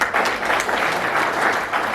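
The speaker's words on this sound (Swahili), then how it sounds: "Pigeni Jesse makofi." Steady applause from a crowd in a parliamentary session, dense clapping throughout at an even level with no pauses.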